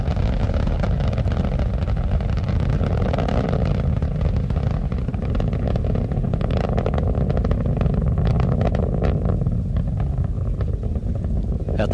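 Space Shuttle Columbia's three liquid-fuel main engines roar through an STS-90 launch, a loud, continuous broadband rumble that holds steady without a break, with some wind buffeting on the microphone.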